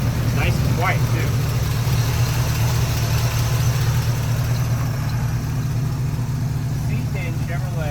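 A 1972 Chevrolet C10 4x4 with a 350 V8 sits idling smoothly and steadily, a low constant rumble running throughout, with someone talking briefly over it.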